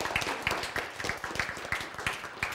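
Applause from an audience at a Korean church Bible lecture, a steady patter of many hands clapping at moderate volume, with faint voices beneath.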